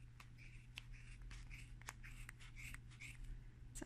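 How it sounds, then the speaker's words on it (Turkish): Scissors cut through wound yarn for a pompom with a quick series of crisp, close snips and rustles, quiet and with no speech. "Sonra makasımla bu şekilde ipleri keseceğim."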